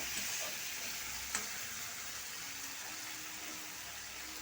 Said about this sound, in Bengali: আমার কিন্তু প্রায় কষানো শেষের পথে।